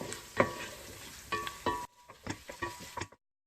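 An eggplant dish with tomato paste is stirred in a pan on a medium-heat stove, with several scraping utensil strokes over a light sizzle before it falls quiet.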